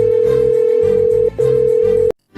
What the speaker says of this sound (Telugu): ఫోన్ వచ్చింది చూడు. ఎవరు చేశారా ఫోన్?